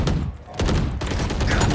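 Rapid gunfire in the shooter video game Valorant comes as a dense, loud burst of shots with a heavy low thump under each one, cut by a short lull before the firing resumes.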